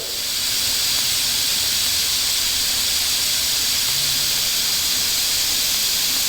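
Steady, loud hiss of TIG welding with an Arccaptain TIG200P welder runs unbroken and close for several seconds, with no talking over it.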